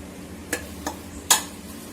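A spatula scrapes through masala and yogurt sautéing in a pan for chicken 65 biryani, giving three brief, soft stirring clicks spaced apart over a quiet background.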